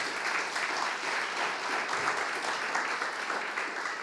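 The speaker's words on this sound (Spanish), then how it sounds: "Denle un aplauso al Señor en esta mañana." A church congregation applauds during a service, a dense, even roar of many hands clapping together, fairly loud and sustained, with no voices standing out.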